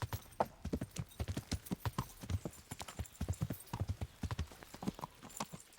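Steady clip-clop of horse hooves trotting at a brisk, even rhythm, close and clear, with an occasional faint whinny, in the medieval game Kingdom Come: Deliverance.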